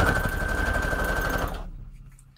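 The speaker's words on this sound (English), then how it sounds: "let me get a straight stitch on here" A sewing machine runs steadily for about a second and a half, stitching a straight seam at its longest stitch length on scrap paper, then stops and leaves near silence.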